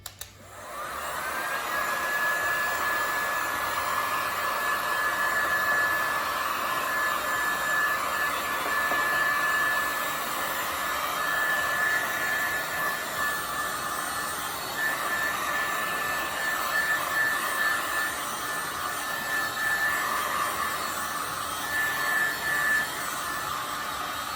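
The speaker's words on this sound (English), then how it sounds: "a little bit more with the heat gun" A heat gun blows over a poured resin surface, a continuous loud airy roar with a steady whine that starts almost at once and holds evenly for more than twenty seconds.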